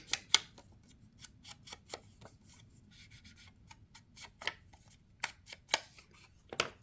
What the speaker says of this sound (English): So I'm going to use the corner rounder and round those corners up